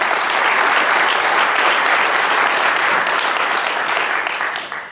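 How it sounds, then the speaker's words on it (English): Audience at a civic event applauding their host mayor, a dense sustained wash of clapping filling the room that fades slightly at the end. "Let's give another round of applause to our host mayor today"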